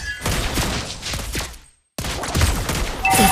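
Rapid bursts of gunfire from Mobile Legends, fired by a sniper hero in the game's battle, thump loudly in dense clusters; a brief silence breaks them midway before the firing resumes and runs to the end.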